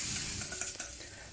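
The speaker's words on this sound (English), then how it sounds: "Now let's pan fry the noodles. Pour the noodles into the wok over medium heat." Noodles sizzle and crackle loudly in a wok over medium heat, with a brief stirring scrape as it settles down.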